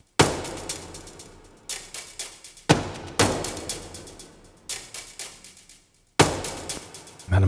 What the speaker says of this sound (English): these are ratchets coming in